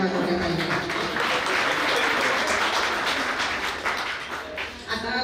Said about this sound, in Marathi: सर्वांनी पेठे मॅडमसाठी एकदा जोरदार टाळ्या वाजवल्या पाहिजे